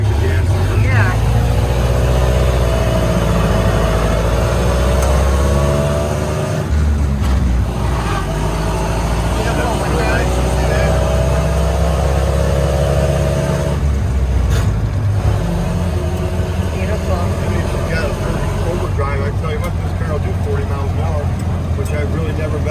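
A 1929 Ford Model A engine runs steadily while the car drives along a side street, a loud, continuous low rumble with rising and falling revs, with people talking over it at times.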